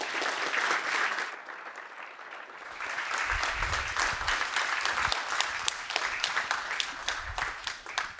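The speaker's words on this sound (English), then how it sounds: "So I want you guys to give him a round of applause." Audience applause welcoming a presenter at a talk on shipping mobile games, a dense, continuous crowd clapping that carries on for several seconds, fairly loud and even, with a faint voice briefly underneath.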